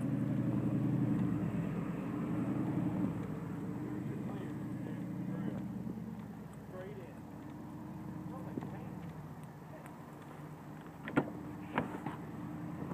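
A 2011 Audi A3 runs in the background, a steady low engine rumble held throughout at moderate distance, with faint talking and a few sharp clicks over it.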